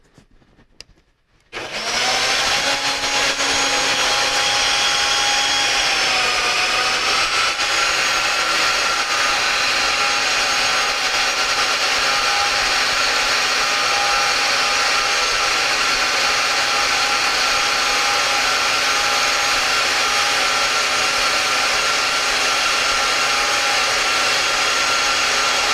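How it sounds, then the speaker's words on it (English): ABS NG 120 XL band saw dry cutting material without coolant: after a brief quiet start, the motor spins up into a loud, steady whine that runs continuously with a slight pitch shift early on. "the ABS 120 is dry cutting, no coolant"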